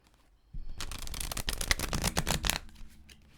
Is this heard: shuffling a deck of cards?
yes